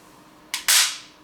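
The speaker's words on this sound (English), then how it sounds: "Functioning bolt catch." An airsoft rifle's bolt catch snaps free with two sharp metallic clacks in quick succession, the second louder and ringing briefly, close and isolated.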